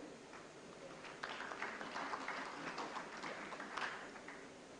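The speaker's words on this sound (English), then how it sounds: "Let's applaud for yourself." Diabetes conference audience applauding, a soft, distant spatter of many hands clapping that swells slightly after the first second and continues steadily, faint overall.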